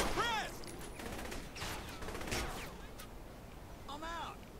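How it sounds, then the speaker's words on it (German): Enemies fire from behind in Saints Row: The Third, sharp gunshots in scattered bursts at moderate distance, with someone speaking German over parts of the clip. "Achso, die schießen noch von hinten."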